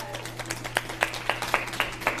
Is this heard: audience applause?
yes